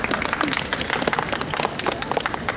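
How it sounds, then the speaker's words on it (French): An audience applauds a team leader at a gathering about homeless people during lockdown in Lyon, with a short burst of dense, crackling hand claps and some voices underneath. "On peut l'applaudir."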